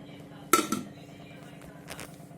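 Dishes and cutlery clink in two short, close bursts while rice is being served at home, with quiet room noise between them.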